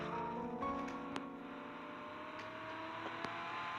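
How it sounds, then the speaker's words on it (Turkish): A video game car engine hums and whirs steadily with no music, a continuous tonal drone holding low and even, broken by a couple of brief sharp clicks. "Sadece arabanın sesi gelsin bu sefer."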